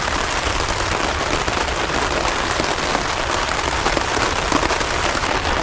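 Rain falls heavily at a campsite, a loud, dense, continuous patter of drops hitting surfaces close by, with no voices.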